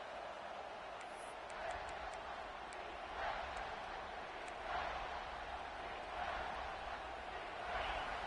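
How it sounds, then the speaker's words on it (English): Big football stadium crowd roaring in a steady, dense wash during a Texas versus Georgia game, swelling in waves as fans urge the defense near the goal line, with broadcast commentary faintly underneath. "And the crowd coming to life here"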